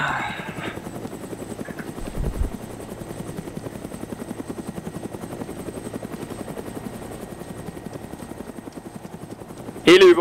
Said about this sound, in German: Heli über uns!